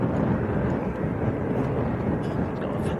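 An Aer Lingus Airbus A330 airliner rumbles with a heavy, continuous low engine roar at an airport, loud and close, with faint talk underneath.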